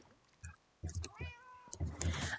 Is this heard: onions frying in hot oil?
no